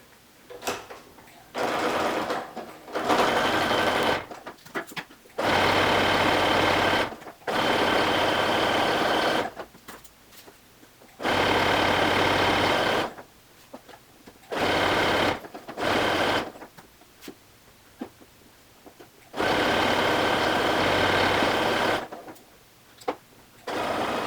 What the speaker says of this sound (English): Now I want to sew that whole seam together